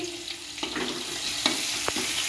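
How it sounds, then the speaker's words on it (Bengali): Garlic sizzles in a wok over low heat as it is stirred, a close, continuous frying hiss broken by sharp scraping and clatters of the spatula. "আমি কড়াইয়ে রুসুন দিয়ে দিচ্ছি"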